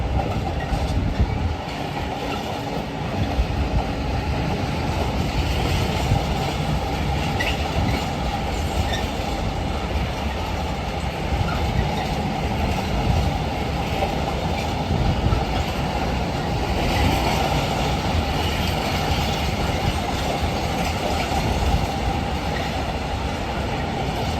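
Two Class 66 diesel locomotives running light past York station on the East Coast Main Line, a steady rumble of wheels on rail with clickety-clack and faint squeal, continuous and fairly close.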